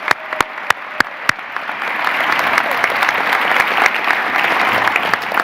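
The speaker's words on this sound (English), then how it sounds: "please, one more round of applause for the Owatonna High School Choir" An audience at the Minnesota State of the State Address claps loudly for the Owatonna High School Choir, opening with a few sharp separate claps before swelling into steady, dense applause.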